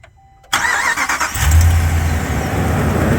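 After a moment of near silence, a 2016 Ram 1500 5.7 Hemi V8, freshly repaired after a broken timing chain, cranks and roars to life, then keeps running loudly with a deep, steady rumble close by.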